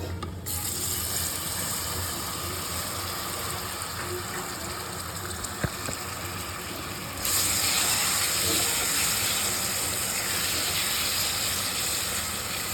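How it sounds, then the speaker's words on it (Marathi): An ingredient sizzles while being sautéed in ghee in a pan for a fasting-day pulao, a steady loud frying hiss that grows brighter partway through, with a faint clink of a utensil. "व्यवस्थित तुपामध्ये परतून घ्यायचा"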